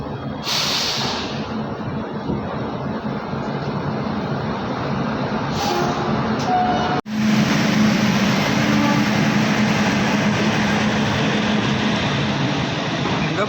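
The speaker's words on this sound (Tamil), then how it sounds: "ஆன் டைமுக்கு ட்ரெயின் எக்மோர்லேருந்து கிளம்பிட்டு." A train departs from Chennai Egmore, likely heard from inside a coach of the Ananthapuri Superfast Express hauled by a WAP-4 electric locomotive: a steady loud rumble, a sharp bump midway, then continuous running noise.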